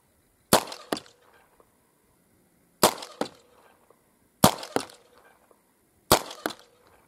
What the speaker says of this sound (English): load them in shot shells and send them downrange